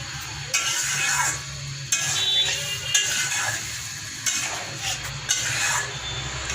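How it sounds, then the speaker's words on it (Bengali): Fish sizzles steadily in a frying pan while a spatula scrapes and stirs it in repeated strokes, with occasional soft metal clinks, close and fairly loud. "মাছ দিয়ে কিছুক্ষণ নাড়াচাড়া করে তারপর আমি এটাকে ঢেকে দিব মাছটা কষানো পর্যন্ত।"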